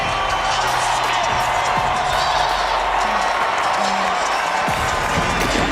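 A home crowd at an NC State Wolfpack men's basketball game against Notre Dame roars and cheers as the starting lineup is announced, a dense, steady wash of noise with some scattered claps and whoops.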